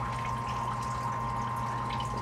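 Flood water is pumped out of a flooded basement sump, heard as a steady, close, loud rush and hum that keeps going without any break.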